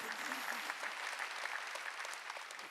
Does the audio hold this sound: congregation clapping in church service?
yes